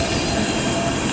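An Alstom tram on the Dijon network passes close by with a steady, loud rolling roar of wheels on rail and a faint squealing edge, continuous and without any voices.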